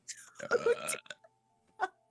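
A person imitates a burp with their voice: a drawn-out, croaky belch lasting about half a second, followed by a shorter one after a pause.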